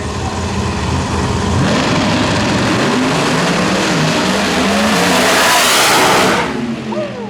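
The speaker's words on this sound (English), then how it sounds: "heck of a drag race right there all the way down" Drag racing vehicles, including a twin-turbocharged pickup truck, roar loudly as they launch and accelerate down the strip, a sustained engine blast that builds and then cuts off near the end.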